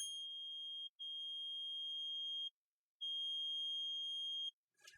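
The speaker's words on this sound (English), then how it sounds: "The alarm will immediately sound." An alarm on a Game Touch 28 lottery terminal sounds as a steady, piercing electronic tone in long sustained beeps separated by brief gaps, loud and alone with no talking.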